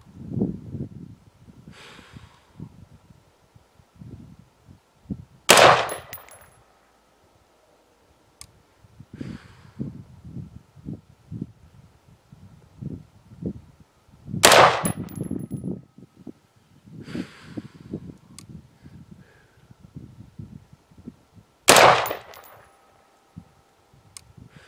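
In zero-degree cold, three sharp, loud cracks with a metallic ring come from a Kel-Tec RDB rifle fitted with a Weaver V3 scope firing at a steel target. Long quiet gaps separate the cracks, with faint knocks and handling sounds between them.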